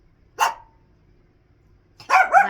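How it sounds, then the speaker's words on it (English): A small dog barks twice nearby, a sharp single yap followed after a pause by a rougher, louder bark, with quiet room tone in between. "Little dog, I'm going to need you to stop the barking all the days of the hours, okay, buddy?"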